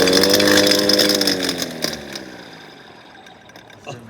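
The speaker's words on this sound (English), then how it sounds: "When the engine starts, there's a compression." A museum engine compression demonstration at the Mercedes Museum: a harmonic mechanical whir rises strongly at first, then spins down and fades within a few seconds, close and fairly loud, with a faint knock near the end.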